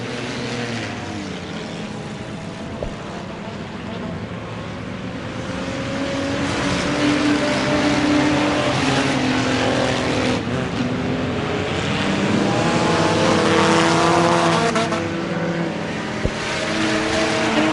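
Stock cars race in a tight pack at Merrittville Speedway during an enduro, a dense, continuous roar of many engines that swells louder midway and holds, with no voices.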